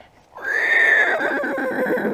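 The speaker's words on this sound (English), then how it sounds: "And look, it's Mr. Horsey" A horse lets out a single loud, close whinny that rises and then trails off in a quavering descent, heard alone after a brief quiet start.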